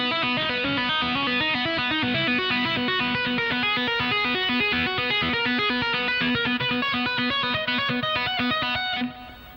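A distorted electric guitar plays a slow lick with hammer-ons, each note sounding clearly and evenly in a steady sequence. The playing is loud and close, with no talk, and ends with a brief fade.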